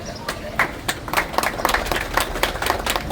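A crowd at a local election inauguration event in Rapar claps to welcome politician Virendrasinh Jadeja, with sharp, uneven claps repeating over about three seconds beneath a speaking voice.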